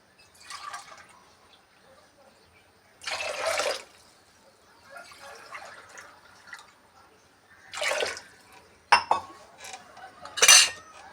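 Lentils are rinsed in water in a pot, giving several short bursts of sloshing, splashing and light metallic clinks separated by quiet gaps. No voices are heard.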